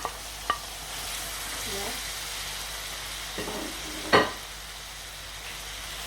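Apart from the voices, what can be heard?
food frying in a pan while cooking fish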